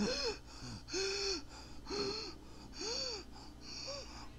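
A voice imitates stridor, a strained, high-pitched wheezing intake of breath from the trachea and larynx, repeated about five times in a steady rhythm, close and fairly quiet.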